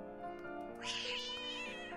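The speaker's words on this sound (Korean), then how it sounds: "검은 고양이는 높은 울음소리를 내며 옆으로 뛰어갔다" A black cat gives one loud, rising, drawn-out cry as an audio drama effect, close and harmonic, swelling in the middle and tailing off without any talk.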